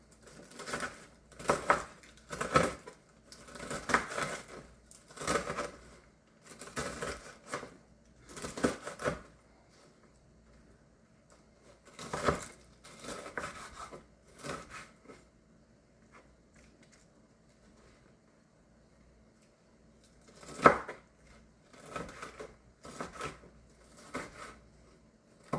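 Bacon being cut up on a board for freezer meal prep, heard as quiet bursts of rapid rhythmic knife chopping and tapping in several clusters separated by pauses, fairly close and faint.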